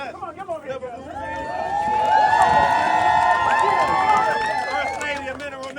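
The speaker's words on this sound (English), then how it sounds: "Give him a round of applause" An audience at a Mineral Ministries church gathering cheers and shouts, the crowd noise swelling into sustained, loud whooping and applause that fades slightly at the end.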